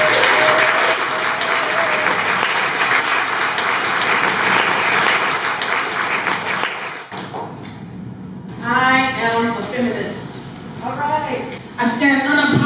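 Audience applause greeting a speaker at a women's conference, loud sustained clapping for about seven seconds that fades out, followed by a voice beginning to speak.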